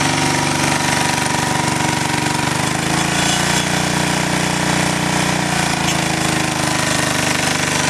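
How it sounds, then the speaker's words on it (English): An engine running on wood gas from a gasifier with its load disconnected, a loud, steady, rapid mechanical drone with a slight shift in pitch midway, close and alone with no talk. "I'm going to disconnect the load, and I want you to hear the RPMs on the engine."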